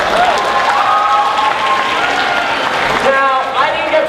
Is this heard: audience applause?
yes